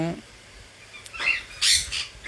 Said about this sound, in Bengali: তার নাম হচ্ছে লুটিনো রিংনেক প্যারট